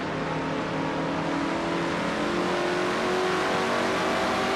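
A Budweiser Ford race car engine at Richmond in a racing video game, heard from the in-car camera as a steady, loud, high-pitched drone sustained throughout with no talk.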